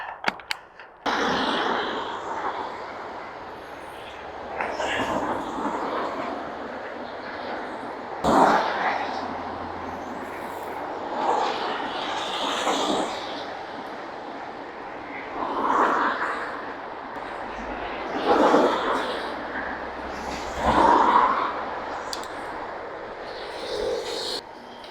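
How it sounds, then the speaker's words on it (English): Strong wind buffets a cyclist riding against it on the Tarka Trail near the Barnstable flyover, a loud, rushing roar that swells in repeated gusts, with a voice speaking at times underneath. "That is a strong wind."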